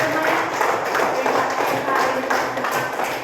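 A third-grade class claps hands together for a classmate's good answer, steady brisk clapping from many children filling the room at close range.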